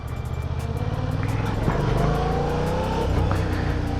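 A Yamaha MT-07 motorcycle engine hums and rises under a steady throttle while riding, loud and close with continuous wind rush and a slight climb in revs.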